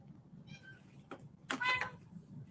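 A jumpy house cat gives a couple of short, faint meows, one thin and high, then a louder clustered call, over a quiet room with low background hum.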